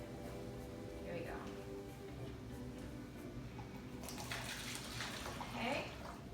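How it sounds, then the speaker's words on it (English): Water poured through a funnel while making a homemade lava lamp, a steady liquid rush that grows brighter and splashier toward the end, under ongoing room noise and a nearby voice. "you use the funnel to keep all the water from spilling out everywhere"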